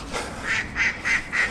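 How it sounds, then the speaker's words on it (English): Ducks quack in a quick series of four or five nasal calls, fairly close and clear over a light outdoor background. "Duck's laughing."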